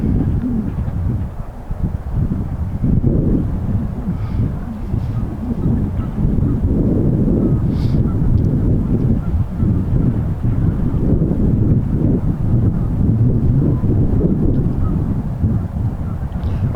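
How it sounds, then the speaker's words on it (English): Strong wind buffets a DJI Mavic Air drone flying over New York City, a loud continuous low rumble of wind noise lasting throughout with no talk. "So the wind is kind of taking down our speed a little bit, but we should be fine."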